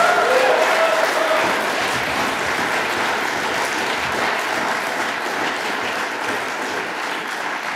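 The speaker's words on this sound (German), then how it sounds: "das ist ein wirklichen Applaus wert" A crowd at an AfD political rally in Eichstätt applauds loudly and steadily, dense clapping that fills the whole stretch and slowly tapers.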